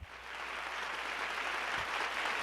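An applause sound effect plays from a Lowrey touch-screen organ, a continuous, even hiss of synthetic clapping that holds steady and fairly soft without breaks.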